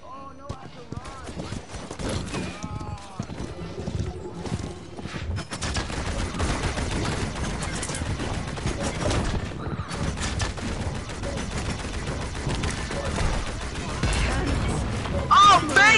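Rapid gunfire bursts from a Paladins match crackle steadily through the whole stretch, dense and loud, mixed with game effects and players talking over it.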